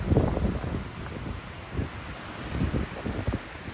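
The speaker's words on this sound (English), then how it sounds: "Boy, is it windy out here." Gusty wind buffets the microphone outdoors, a steady low rumble with stronger gusts rising and falling throughout.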